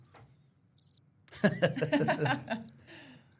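Short bursts of high cricket chirps sound in a quiet space, then a breathy voice-like noise rises and falls before the chirping returns faintly.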